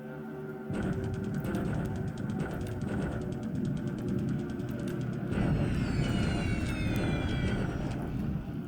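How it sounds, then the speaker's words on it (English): Blenheim bombers attacking in a Pacific war strategy game: a steady, loud drone of aircraft engines running throughout, with a rising whine of shifting tones in the latter half and no voices. "Blenheim bombers are coming in to attack my ground units."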